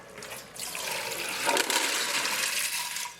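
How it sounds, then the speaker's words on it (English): Soaking water from pinto beans for charro beans poured off through a strainer, a rushing, splashing gush that starts abruptly and keeps running close by. "Now that you've picked the beans out, you're gonna strain the water."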